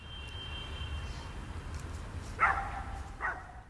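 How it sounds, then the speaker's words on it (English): A dog barks twice, short and moderately close, over a steady city ambience of traffic rumble and a faint industrial hum. "horn honks, and a dog barks"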